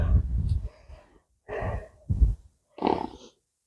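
A horse snorts and breathes in a home stable setting, several short rough nasal bursts separated by pauses, fairly close and moderately loud with no talk over them.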